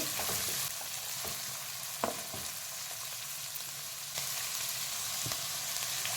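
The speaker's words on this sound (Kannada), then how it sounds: "ಈರುಳ್ಳಿ ಚೆನ್ನಾಗಿ ಫ್ರೈ ಆಗಲಿ" Onions frying in a pan for egg rice make a soft, continuous sizzle, with a few faint stirring knocks along the way.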